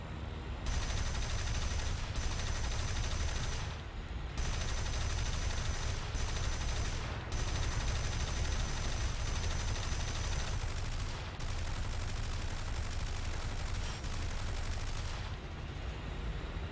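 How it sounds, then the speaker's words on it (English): Sustained aircraft machine gun fire aimed at a Ju 88 bomber in the War Thunder flight game, long dense bursts broken by short pauses, loud and steady with engine roar underneath and no talk. "let me put a couple of shots into this Yanker 88"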